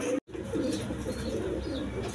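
Pigeons in a dealer's loft coo in a low, continuous throaty murmur, close and steady throughout, broken only by a brief dropout near the start.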